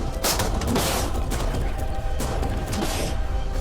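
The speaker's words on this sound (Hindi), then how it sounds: "टैंक्स की रैपिड फायर से मजा आ रहा है" Tanks firing in rapid succession produce a dense, continuous barrage of booms and crashes, loud and close, with a few sharper bursts standing out from the roar.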